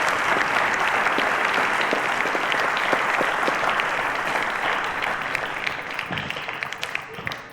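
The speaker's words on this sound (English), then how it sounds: "Let's give them a round of applause." A studio audience at a maths quiz show applauds contestants with steady, dense clapping that thins slightly toward the end, with no talking over it.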